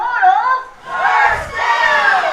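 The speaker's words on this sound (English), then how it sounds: "still the PA announcer is getting heckled by the crowd" Crowd at a varsity football game heckles the PA announcer, with sustained loud shouting and jeering voices in waves.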